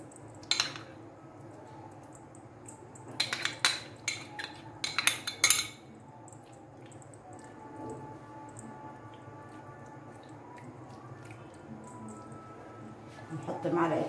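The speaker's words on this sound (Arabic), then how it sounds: "نحط معلقتين القشطة. على الوجه" Spoonfuls of thick cream skimmed from milk are dropped onto a dish, with close metal spoon clinks and soft squishy dollops coming in a short burst of taps and scrapes while someone talks.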